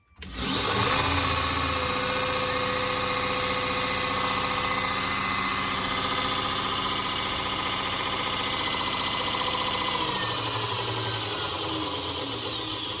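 A Grizzly 2x42 belt grinder switches on and spins up quickly, then runs with a steady, even whine and hum at close range, its tone shifting slightly near the end.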